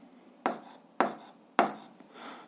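Chalk or pen strokes on a board during an 8th-grade algebra lesson: three sharp scratchy strokes at regular intervals, then a softer rub, close and fairly quiet with no talking.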